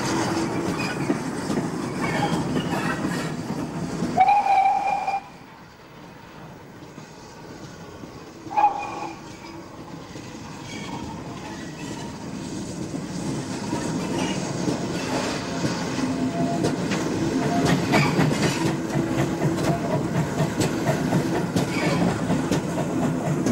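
GWR steam locomotive 1466 running on a preserved Great Western branch line at Didcot: a steady rumble of wheels and train movement with rhythmic clatter and brief squeals, moderately close and continuous.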